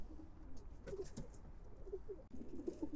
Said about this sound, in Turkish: Kuşumuzu getirdik, kümesimize koyduk.